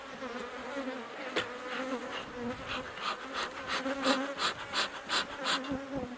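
Honeybees swarm around an open tall vertical hive, a dense and continuous buzzing with individual bees droning close past, steady and fairly loud without any voices.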